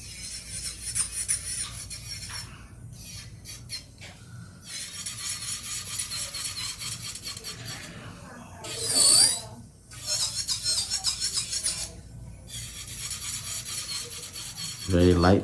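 An electric nail drill files an ombre acrylic nail in a series of high whirring, rasping passes, starting and stopping repeatedly with short quiet gaps and a sharp squeal partway through.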